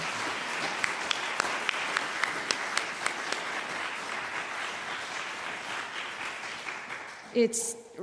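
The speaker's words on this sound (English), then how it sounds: "I think another round of applause for Judith Grant." An audience applauds Judith Grant at a Nova Scotia Talent Trust special announcement, a steady wash of clapping with a few sharper individual claps, fading near the end as a voice briefly speaks.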